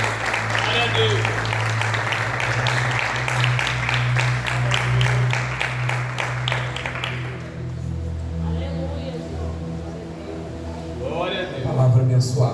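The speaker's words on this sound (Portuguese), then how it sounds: "Só as palmas louvando o Senhor." Church congregation clapping in praise: dense, rhythmic clapping from many people for about seven seconds, then fading out while a voice keeps speaking over a low hum.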